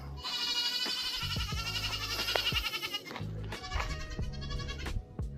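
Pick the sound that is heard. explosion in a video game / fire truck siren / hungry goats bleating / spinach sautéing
hungry goats bleating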